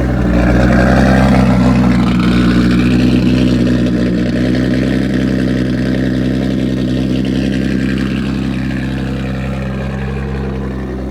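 An Infiniti G35 with a 1000 hp big-turbo setup idles loudly and steadily, running to cycle fuel through its pumps and tanks, a constant rough engine drone held close with no talk.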